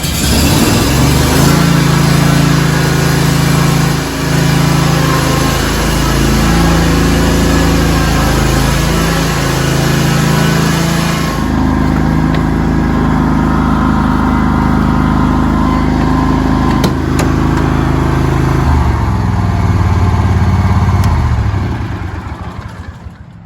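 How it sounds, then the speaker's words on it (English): A riding lawn mower with a newly replaced ignition coil runs steadily at close range, its loud, continuous engine drone holding for over twenty seconds before easing slightly near the end. "the mower's running pretty normal"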